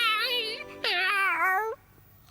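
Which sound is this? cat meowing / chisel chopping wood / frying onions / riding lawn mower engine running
cat meowing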